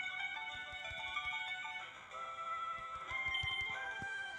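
A phone notification tone sounds during a Pokémon FireRed game stream: a steady electronic melodic chime of repeated tonal notes over soft low thumps, at moderate volume, with no talk.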